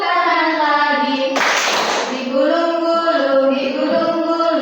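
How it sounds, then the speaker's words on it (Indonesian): Children clap their hands in a classroom, a short burst of claps lasting under a second while a woman's sing-song speaking voice carries on before and after. "tepuk tangan lagi"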